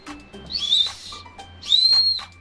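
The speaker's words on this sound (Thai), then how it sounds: "ก็เป็นนกหวีดปืนนะคะ ก็ดังดังอยู่ดังมากด้วยค่ะ" Two loud, shrill toy whistle gun blasts, close by, each a sustained high tone lasting about half a second to a second, separated by a short gap, with faint background noise.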